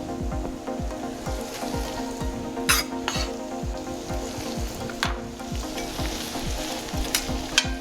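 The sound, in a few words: shrimp and scallops sautéing with vegetables in pan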